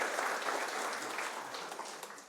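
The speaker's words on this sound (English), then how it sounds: "Go ahead, clap for Devin." Audience applause for a firefighter at the Springfield Fire Department promotional ceremony, a steady wash of clapping that holds level for about two seconds and tapers slightly at the end, with no voices over it.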